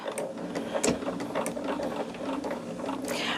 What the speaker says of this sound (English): I am just going to do a straight stitch all the way up and down